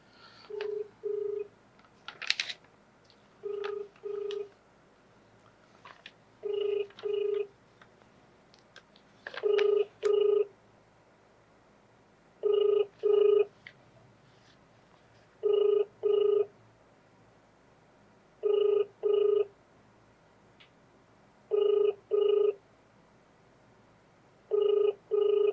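A phone call rings out unanswered: a ringback tone sounds in steady pairs of short beeps roughly every three seconds, clear and alone over a faint line hiss, after a brief burst of dialing tones at the start.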